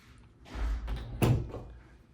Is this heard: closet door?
yes